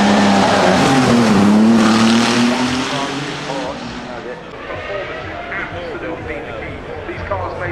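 Supercars such as the Valour, Mustang GTD, SF90 XX Spider, Mistral and Bolide accelerate hard, a loud close engine roar rising in pitch through the gears before easing into a steadier drone.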